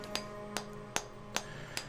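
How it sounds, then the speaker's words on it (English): A hammer strikes a chisel against brittle stone tunnel walls in a video game, five evenly spaced sharp metallic taps over a low steady hum, with no talk. "I find a weak point in the rock and hammer at the walls of the passage."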